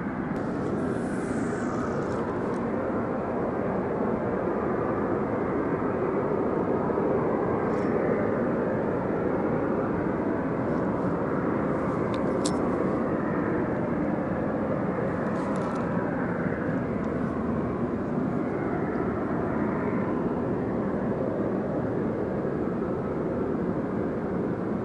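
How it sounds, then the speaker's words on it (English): Background noise from an industrial plant drones steadily like a distant jet, a loud continuous broadband rumble near deep water where bluegill are being fished, with no talking. "the background noise from that plant over there sounds like a jet."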